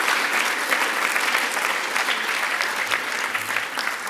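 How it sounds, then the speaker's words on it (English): An audience at the Palestine Expo 2019 gives a sustained round of applause for the event's volunteers, a dense, even roar of many hands clapping that fills the hall without pause. "give a round of applause for the Palestine Expo, the volunteers in particular that have made this a reality"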